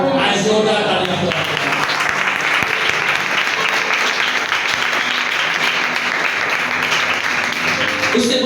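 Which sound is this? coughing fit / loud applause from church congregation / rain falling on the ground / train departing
loud applause from church congregation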